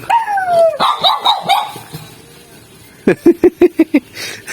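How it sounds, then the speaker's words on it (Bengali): Foreign-breed dogs in a park bark close by, first with a few yips and whimpering cries, then after a pause a quick run of six or seven sharp, evenly spaced barks, with faint voices in between. "এগুলো বিদেশি কুকুর না?"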